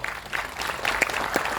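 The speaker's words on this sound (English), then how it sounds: "Come on, you can clap." An audience at a business incentive seminar claps in a loose, moderately loud spatter of individual hand claps with some crowd murmur beneath.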